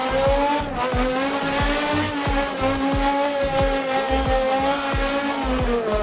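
A BMW E60 M5 drifts on a slightly damp track in the racing game Assetto Corsa, its engine droning steadily while the tires squeal in rhythmic bursts, loud and continuous.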